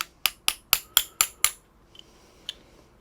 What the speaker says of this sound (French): je vais venir le tapoter